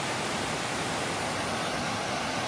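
A waterfall on the White River between Vermont and New Hampshire roars as a steady, dense broadband rush, constant and fairly loud with no pauses.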